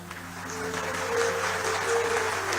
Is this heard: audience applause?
yes